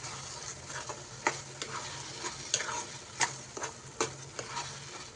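Sago laddu mixture with added sugar is stirred in a pan, giving repeated sharp spoon scrapes and clacks at an irregular rhythm over a low background sizzle, close and alone.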